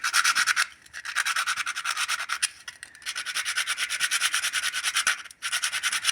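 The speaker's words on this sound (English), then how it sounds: "sand until you get a nice clean connection" Sandpaper scrubs over a rusty, corroded car ground connector in steady back-and-forth strokes, a close, bright rasping with two short pauses, and no one speaks.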